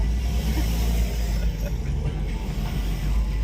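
A Toyota AE92 GTI drives along, its engine giving a steady close rumble under road and wind noise with no clear acceleration.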